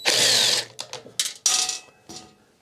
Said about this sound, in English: Now let's unbolt the housing from the carburetor.